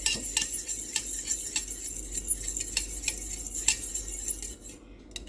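A spoon stirs a lemon hair mask mixture in a bowl up close, giving steady, rhythmic clinks and scrapes against the sides for several seconds before stopping.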